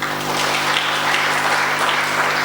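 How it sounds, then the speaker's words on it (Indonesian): A crowd claps loudly in dense, continuous applause that holds steady from start to finish. "Tepuk tangan buat Tuhan Yesus."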